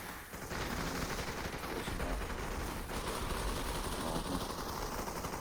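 Dense, continuous gunfire during a multiplayer shooter video game scrim, rattling almost nonstop and fairly loud throughout, blended with a steady low rumble.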